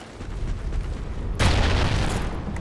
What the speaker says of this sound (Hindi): अबे ग्रेनेड फेंक दिया,